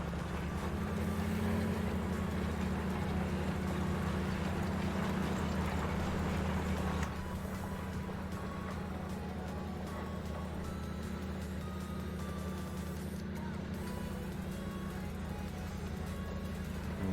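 A tractor engine in Farming Simulator 19 drones steadily at a constant low rumble, with a slight shift in tone partway through, continuous and without talk.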